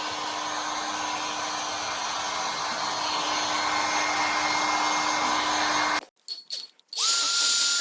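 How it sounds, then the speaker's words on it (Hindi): A hair dryer blows steadily and loudly at close range while drying a freshly bathed pet's fur, cuts out briefly with a few clatters near the end, then starts up again. "हम इन्हें सुखा रहे हैं हेयर ड्रायर से।"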